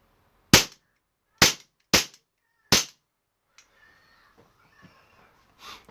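A CO2 Remington 1911 air pistol fires four sharp, close cracks at uneven intervals, followed by quiet handling clicks and a soft puff.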